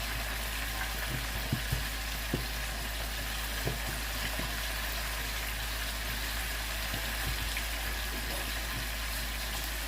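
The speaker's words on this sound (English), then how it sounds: "I have about 8 pieces that I'm frying up" Steady, dense sizzling of chicken pieces deep frying in hot oil in a pot, with occasional soft pops and clinks over a constant low hum.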